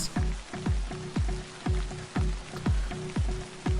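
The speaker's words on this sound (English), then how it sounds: "I run through the rain from the sprinklers" Sprinkler water pours down as steady rain in the video game Sound of Drop, a dense even hiss with a rhythmic series of low swooping thuds repeating about every half second throughout.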